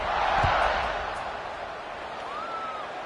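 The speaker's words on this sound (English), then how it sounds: "this crowd is buzzing after that last score" A football stadium crowd at a Kansas vs Missouri college game keeps up a broad, steady roar after a touchdown. The sustained buzz fills the whole moment, with no clear voices standing out.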